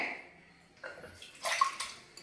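Water splashes into a pressure cooker holding moong dal, a short quiet pour with soft sloshing and a faint metallic ring, close by and alone.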